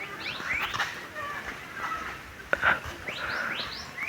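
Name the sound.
red bird chirping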